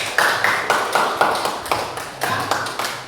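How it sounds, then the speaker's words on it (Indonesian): A school class claps together in rhythmic bursts, sharp repeated clapping in regular groups of several beats with short pauses between, fairly close and loud in a classroom. "Tepuk tangan semua untuk kalian."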